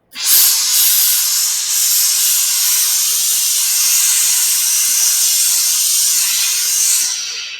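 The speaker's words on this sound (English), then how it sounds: "You can tell it's a lot of steam under pressure that you're letting go through." An industrial steam iron with a hose lets out pressurized steam in one loud, steady hiss lasting several seconds, starting abruptly and tapering at the end.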